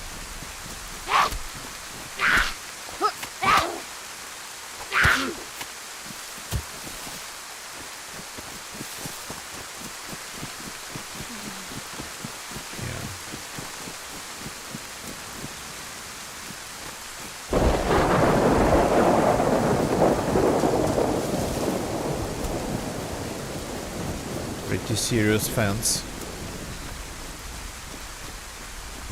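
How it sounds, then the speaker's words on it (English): Steady rain hisses through a thunderstorm in the Livonia survival video game. A heavy, rolling thunder rumble swells partway through and then slowly fades, and someone speaks briefly near the start. "Won't be able to hear any shots in this weather with all this thunder and whatnot."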